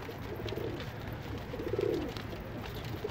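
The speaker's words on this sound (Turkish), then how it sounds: "Kuş burada. Biraz yem yesin." A feathered-foot pigeon coos softly twice, low and murmuring, close by against a quiet indoor background.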